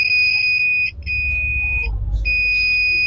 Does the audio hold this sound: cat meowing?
no